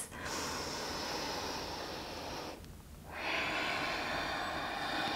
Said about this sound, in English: Deep breaths here. Take one more breath.